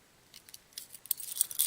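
Keys jangling on a Maxpedition belt keeper, faint scattered metallic clinks that grow louder and busier toward the end, heard alone.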